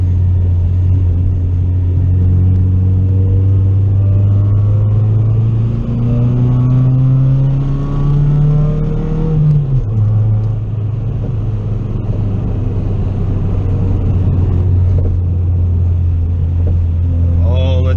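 A budget-build car engine fitted with an eBay turbo runs at about half throttle, a loud close low rumble whose pitch climbs steadily and then drops back, with a voice heard talking over it.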